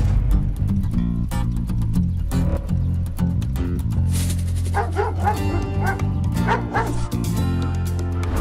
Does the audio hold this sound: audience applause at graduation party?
no